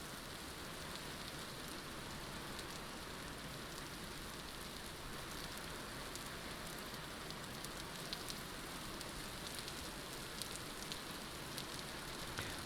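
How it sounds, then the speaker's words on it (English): Rain falls steadily in the survival video game Vintage Story, a dense continuous patter of drops on surfaces with no pauses, soft and even throughout. "Boy, it sure rains here a lot."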